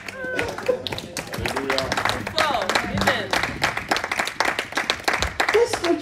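Congregation at a French-language church service clapping in a dense, rhythmic patter of many hands, with a preacher's voice and crowd voices mixed in throughout.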